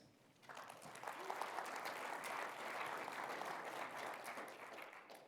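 A conference audience at a sports analytics event breaks into applause to welcome a baseball team executive, the clapping swelling quickly and holding steady and full for several seconds.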